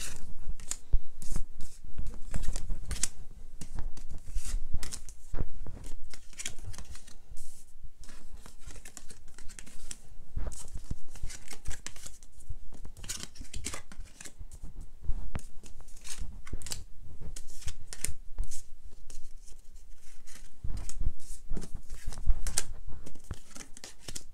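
Tarot cards shuffled and drawn by hand, a busy stream of crisp papery riffles, flicks and crinkling snaps that runs steadily and fairly close throughout, with no talking.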